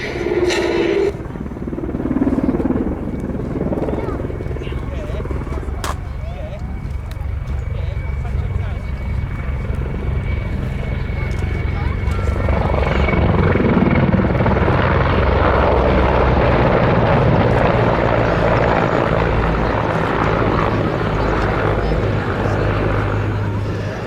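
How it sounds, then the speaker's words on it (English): A Czech Air Force Mil Mi-35 attack helicopter flies an air display at Duxford, its rotor and turbine roar swelling from a distant drone to a loud, close, pulsing rumble, with a commentator talking over it. "Mi-35, an export version of the Mi-24V, a type better known"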